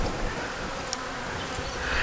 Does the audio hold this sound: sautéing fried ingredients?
no